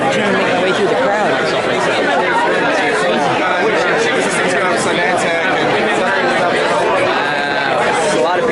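Dense crowd chatter of many travellers in an airport, a steady overlapping babble of voices heard from within the throng, with no single voice standing out.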